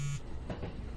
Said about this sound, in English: My eyes opened to the shrill buzzing of my cell phone on the table.